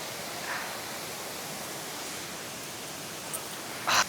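Steady broadband rush of the waterfall at Vickery Creek in Georgia, heard as a constant wash of noise with a brief brighter splash near the end and no talking.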